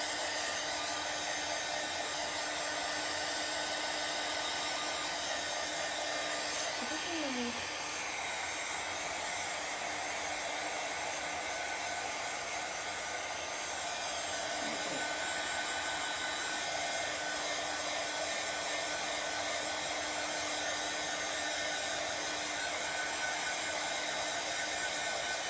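Hair dryer blowing on chalk paint over a wooden pallet, a steady, loud, unbroken whooshing hum held the whole time, with brief faint pitch shifts as it moves.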